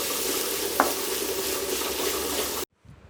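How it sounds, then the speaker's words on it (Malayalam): Chopped garlic and onion sauté in a pan for vegetable fried rice with a dense, close sizzle and light stirring. The sizzle cuts off abruptly near the end, leaving faint room noise. "വെളുത്തുള്ളി ഒന്ന് മൂത്ത് വരുമ്പോൾ അതിലേക്ക് അരിഞ്ഞു വെച്ച സവാള ചേർത്ത് കൊടുക്കാം"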